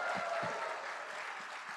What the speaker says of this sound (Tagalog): Lahat po ng overcomer, pumalakpak lang malakas.